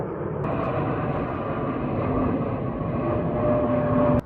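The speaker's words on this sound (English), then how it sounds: "Another plane coming in for a landing." A jet airliner approaching McCarran Airport in Las Vegas to land makes a steady, moderately distant engine roar with a faint high whine, holding level and then cutting off abruptly.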